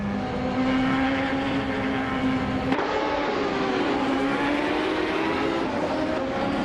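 Race cars, including Penske PC23s, roaring around a track in a racing video game, steady engine drone with a gear shift or passing car near the middle, continuous and fairly loud with no voices.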